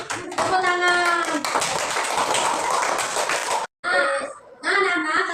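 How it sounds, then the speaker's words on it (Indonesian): Children clapping in an Indonesian classroom, a burst of rhythmic hand claps with young voices chanting over them, a brief pause, then more chanting and claps. "Tepuk tangan."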